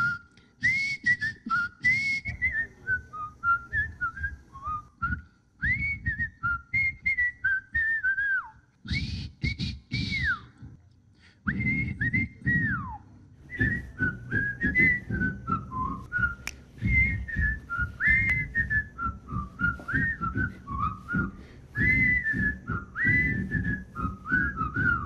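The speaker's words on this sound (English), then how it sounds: "Time to pucker up and see who's got the best rendition of that well-known theme song." Several people whistle a well-known TV theme melody at a Mayberry Days event, one tune after another with brief pauses between renditions, loud and close, with crowd noise and background sounds underneath.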